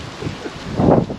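Gusty wind buffets the microphone on an outdoor golf course, a steady broadband roar that swells into a stronger gust near the end, with no talking.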